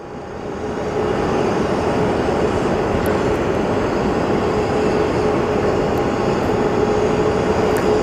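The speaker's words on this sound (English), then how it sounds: "We have an Envoy plane landing in the background." A regional Envoy airliner lands at Phoenix Sky Harbor airport, heard as a steady, loud jet roar with a faint tonal whine. The roar swells in the first second and then holds unbroken.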